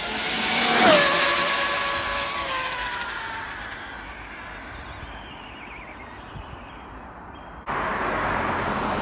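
Arrma Limitless RC car on a high-speed run, a sharp rising whine that peaks early as it races past, then fades into a long distant drone before a sudden burst of noise near the end.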